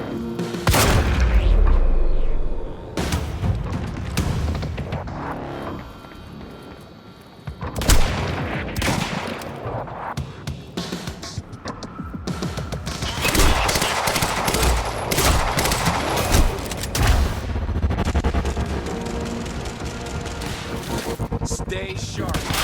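Video game Quantum Break gunfire: loud bursts of automatic fire and heavy impacts, a brief lull, then sustained rapid shooting, with shouted voices mixed in.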